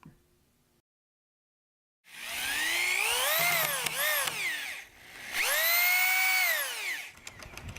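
A power drill drives 3-inch screws into wooden studs on a skateboard halfpipe build, in two long loud whining runs that rise and fall in pitch, with a short gap between them and silence before.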